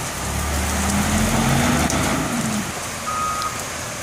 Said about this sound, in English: Looks like that one truck that's full is about to roll out.